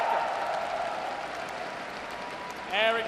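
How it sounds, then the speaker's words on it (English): An esports arena audience at a Dota 2 major applauds in a steady wash of clapping and crowd noise, fading a little before an amplified voice cuts in at the end. "Can we get one more for our Doombringer,"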